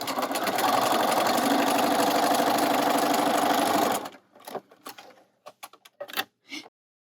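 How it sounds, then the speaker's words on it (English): A sewing machine runs in one steady, fast stitching burst for about four seconds, sewing a quarter-inch seam on quilt pieces, then stops, followed by a few quiet clicks and handling sounds. "Then I'm going to go to the sewing machine and I'm going to sew a 1/4 inch down each side."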